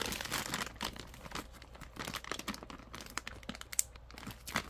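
Ziploc plastic bag handled while storing sliced oven roasted turkey breast: irregular bursts of close, crisp crinkling and rustling, with quieter gaps between the crackles and no talking.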